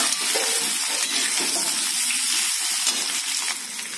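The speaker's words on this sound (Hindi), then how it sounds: "घी गर्म हो गया है और अब हम इसमें उबले हुए आलू डालेंगे" Boiled potatoes fry in hot ghee in a kadhai, a loud, continuous close-up sizzle with stirring scrapes and no talking.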